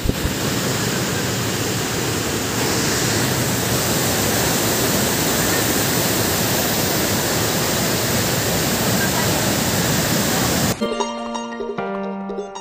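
Steady, loud roar of the Lower Falls of Johnston Canyon in Banff, a broad continuous rush of falling water that fills most of the clip before cutting off abruptly near the end.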